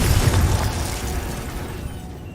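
Spell explosion in Hogwarts Legacy, a deep booming burst at the start that rolls off into a fading rumble.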